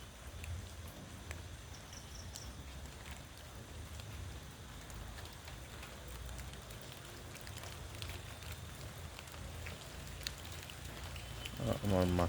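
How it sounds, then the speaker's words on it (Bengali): Rain falls at night in the open, landing overhead and around in a faint, even patter, with a voice starting up softly at the very end. "আমার মাথার উপরে পানি পড়তেছে বৃষ্টির, যে শব্দটা আসতেছে"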